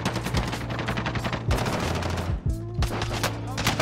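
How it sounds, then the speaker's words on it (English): Rapid bursts of automatic gunfire in a multiplayer shooter video game, loud and close with repeated sharp shots over a low humming background, alone without talk. "Oh, I'm getting shot."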